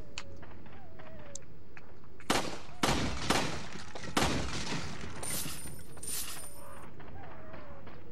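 Gunfire in Resident Evil 4 on PS2 with infinite ammo, several loud sharp shot bursts clustered in the middle, some with shattering crackle, amid quieter game ambience and brief tonal effects.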